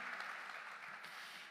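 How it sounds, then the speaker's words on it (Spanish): A church congregation breaks into brief applause, a soft, distant patter of many hands lasting only a moment at low volume. "Dele un fuerte aplauso."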